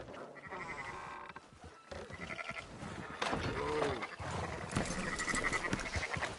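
Several sheep bleat in turns in Red Dead Redemption 2 over a busy game background, with wavering calls of varying loudness, some close and some farther off.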